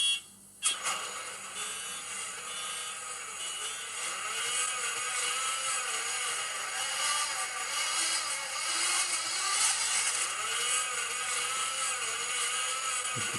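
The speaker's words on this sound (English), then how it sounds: "You can tell that it's cold because the engine's struggling to start." A car's cold engine cranks and struggles to start on a winter day, a continuous, rhythmically pulsing churn heard up close after a sharp initial click, steady and moderately loud with no talking.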